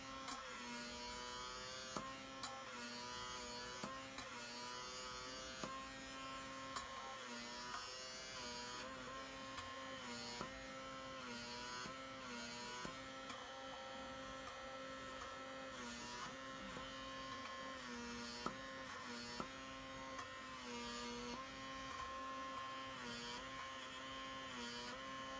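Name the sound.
microdermabrasion suction facial device running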